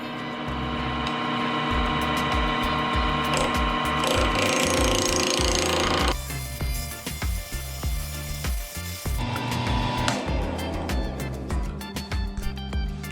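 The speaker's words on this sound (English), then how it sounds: "we're gonna round this thing out with a spindle gouge" A spindle gouge rounds a square bocote wood pen blank on a lathe, giving a steady loud scraping rasp over the motor's hum, with rougher chattering bursts as the corners catch.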